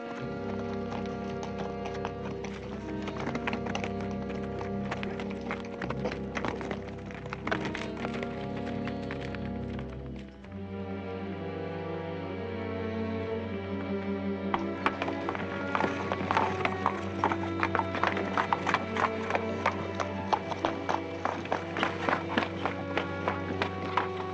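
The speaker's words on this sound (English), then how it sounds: "We'll stampede that herd of horses right into them." A herd of horses galloping in a 1966 Western film, with rapid clip-clop hoofbeats under a loud orchestral score that grow denser and more prominent in the second half.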